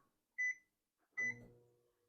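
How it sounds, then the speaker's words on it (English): Two short electronic beeps sound in a quiet room, the second followed by a brief clatter, like a microwave oven finishing. "I'm going to put it in the microwave for 30 seconds."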